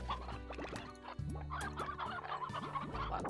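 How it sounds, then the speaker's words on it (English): Slime Rancher game hens cluck and gobble in short, repeated bursts, fairly close, with no talking over them. "Lots of chickens around here too."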